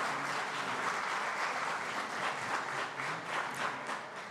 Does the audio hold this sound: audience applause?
yes